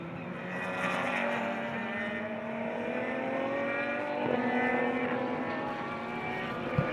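Radical race cars at speed on the Motor Park Romania circuit during a Radical Cup race, a steady loud engine drone with shifting pitch lines, sustained throughout with no speech.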